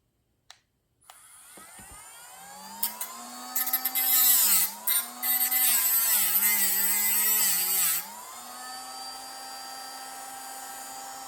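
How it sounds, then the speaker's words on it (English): A rotary tool spins up and whines steadily, then grinds in several bursts as a flat spot is cut on the inside edge of a slot car part, before running freely again and stopping; close and loud, no talking. "When you're mashing it down on your rotary tool"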